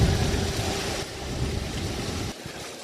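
A whale-watching boat off Maine idles at sea, heard as a steady low engine rumble mixed with wind and water noise. The sound shifts slightly partway through and drops near the end.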